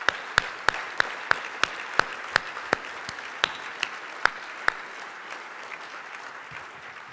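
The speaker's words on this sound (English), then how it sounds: "It's great applause." Audience applause at a sold-out Medal of Honor dinner, a loose scattering of sharp individual claps spaced roughly every third of a second, fairly close, thinning out toward the end with no talk over it.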